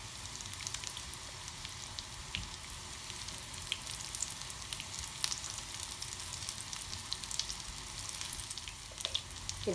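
Fish shami kebabs fry gently in oil over low heat, giving a steady, soft sizzle with faint crackles and pops, close by and continuous with no talking.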